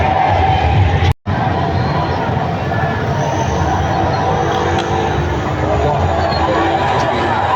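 A dense crowd gathered in a street to watch a cricket match on a big screen keeps up a loud, continuous babble of voices and shouting, with a momentary dropout near the start.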